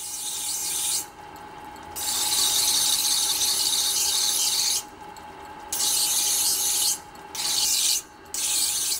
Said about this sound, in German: Auf der sogenannten Hexe erhält die Klinge ihre sprichwörtliche Schärfe.